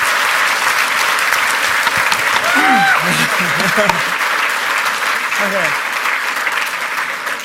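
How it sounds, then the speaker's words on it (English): Sustained applause from a large crowd at a talk introducing a hacking documentary, steady and dense throughout, with a voice speaking briefly over the clapping partway through. "give them a huge round of applause"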